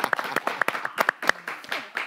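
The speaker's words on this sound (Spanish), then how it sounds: "un aplauso para Carmen." Scattered hand claps from a small group, uneven and brief, with a voice cutting in among them.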